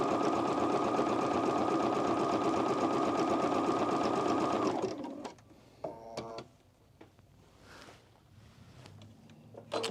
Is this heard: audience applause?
no